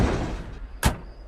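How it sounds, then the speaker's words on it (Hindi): A car trunk slams shut just once outside a metro station, giving a sharp, fairly close thud with a broadband crack, followed by a faint, steady high whine over low background noise. "जीतू की लाश को उस बोरी में जैसे तैसे भरा और अपनी पीठ पर ढोकर मेट्रो स्टेशन के बाहर पार्क की हुई अपनी कार की डिक्की में उस बोरी को रखकर उसे लॉक कर दिया।"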